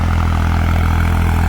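A New Holland tractor engine labours through a wet, muddy field with a steady, close, loud diesel drone. Its low, even throb continues without a break.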